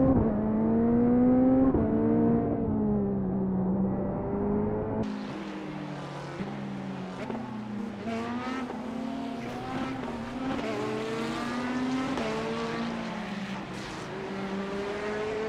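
A GT3 race car in a sim racing game accelerates hard out of a corner, its engine revving and climbing through the gears with bursts of tire squeal. The sound is loud, continuous and close, with no talking.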